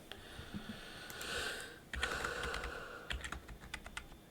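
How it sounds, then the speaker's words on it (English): Quick bursts of typing on a computer keyboard, the clicks coming in uneven runs with pauses between, fairly close and clear against a faint hiss, with no voices. "It's just a little extra typing."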